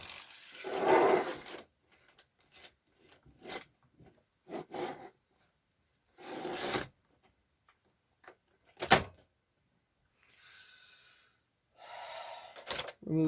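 Knitting machine ribber being shifted along the bed: scattered short clunks and mechanical clicks with sliding rattles, some loud, coming in separate bursts with pauses between.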